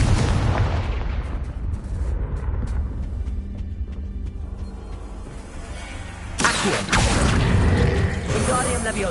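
A blasting spell in a wizarding video game sets off a rumbling explosion over dense game noise, with mechanical clanks, and a second, louder burst erupting near the end.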